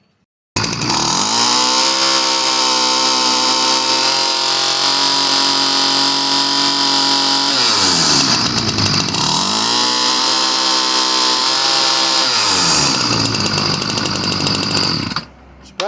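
A Ryobi 725r gas string trimmer engine runs rich and loud for about fifteen seconds, holding a steady rasping two-stroke drone that bogs down twice mid-run before picking back up, then cuts off abruptly at the end.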